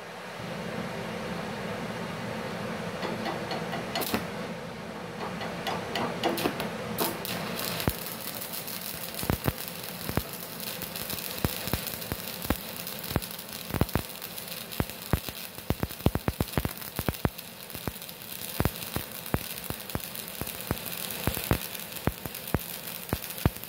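An MMA 400 stick arc welding machine with its VRD switched on runs a weld, giving a steady, loud crackling and hissing arc. Sharp sputtering pops grow denser through the second half, and no one speaks.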